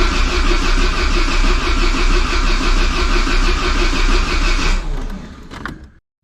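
Peugeot 205 GTI engine turning over on the starter without catching, a steady, loud, continuous mechanical cranking that runs for about five seconds and then winds down and stops.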